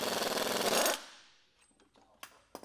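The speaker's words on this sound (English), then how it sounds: "we'll use our ball joint removal tool to remove this ball joint" A ball joint removal tool forcing out a truck's ball joint during a death-wobble repair: a loud, dense grinding-rattling burst for about a second, then quieter scattered clicks and taps of metal.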